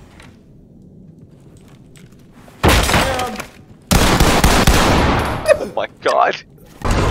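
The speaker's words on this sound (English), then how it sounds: "That was a large explosion." Two huge, roaring blasts in a video game burst out one after the other after a quiet stretch, each followed by crackling debris and a rumbling tail. A person speaks briefly as the noise dies away.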